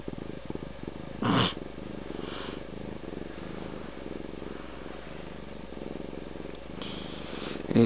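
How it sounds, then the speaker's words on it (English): A cat purring close by in a quiet room, a steady low rumble running throughout, with a brief louder burst of noise early on and no voices. "The sound of a kitty purring."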